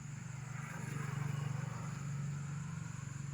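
A yellow motorcycle carrying three riders passes at night on a village road near a barangay hall, its engine a steady low rumble that swells slightly and fades, with no talk.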